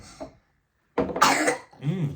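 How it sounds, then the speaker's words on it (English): A single sharp, loud cough bursts out close by after a brief silence, followed by a short throat-clearing rasp. "that's a good cough"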